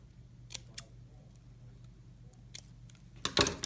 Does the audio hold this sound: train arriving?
no